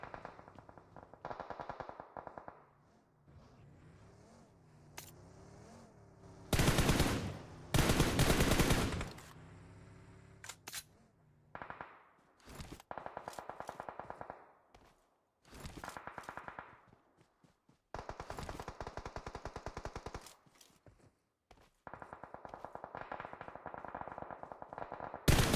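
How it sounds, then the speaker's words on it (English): Gunfire in a competitive shooter match: repeated bursts of rapid automatic fire and single shots, some loud and close, others softer, broken by brief pauses. "Sophie with some shots and no hit markers."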